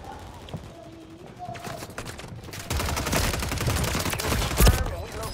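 Rapid bursts of gunfire in Call of Duty Warzone (Modern Warfare), growing louder and denser partway through with a sharp loud shot near the end, while players talk over it.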